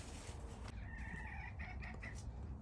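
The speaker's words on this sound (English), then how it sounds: "A name that was given to this chicken before I knew how much she'd talk." Hen clucking and chattering near a backyard chicken coop, a few short vocal bursts close by over steady low rumbling background noise, no talking.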